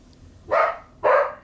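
A house dog upset by someone outside barks twice, two loud close barks about half a second apart with quiet between them.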